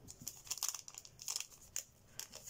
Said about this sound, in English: I'm gonna use the scissors just so I have it pack without any rips in it